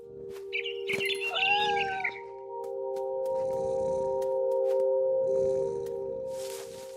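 A cat meows in the video game What Remains of Edith Finch, a couple of clear, close, drawn-out mews over a steady low game drone, followed by soft rustling movement sounds.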